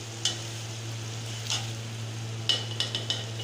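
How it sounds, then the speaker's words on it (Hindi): Tomato, ginger and garlic paste with spices fries for Delhi-style haleem. A soft, steady sizzle sits under a low hum, broken by a few sharp scrapes and taps of a spoon stirring the pan. "अब मैंने इसको अच्छी तरह भूनना है ताकि मसाले भी अच्छी तरह भून जाए"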